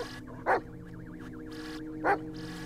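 A dog in the Blair Witch video game gives two short barks, about a second and a half apart, over a faint wavering ambient tone.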